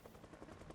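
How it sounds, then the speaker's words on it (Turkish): Helicopter in the Project Zomboid video game flying overhead, a steady rotor thrum with a faint pulsing beat, fairly quiet and continuous with no talk. "Bak bu helikopter peşimizi bırakmıyor mesela."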